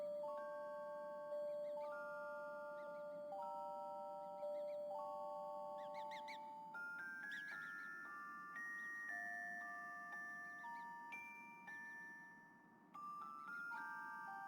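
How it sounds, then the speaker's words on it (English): Chiming bell-like tones from the video game Paper Mario Color Splash, a sequence of sustained melodic notes stepping up and down over steady background game music, loud and continuous with no talking. "and then the bell's gonna ring"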